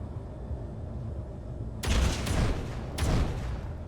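Two sharp bursts of video-game gunfire from Apex cut in over a low rumbling background, the second about a second after the first, each followed by a brief noisy tail.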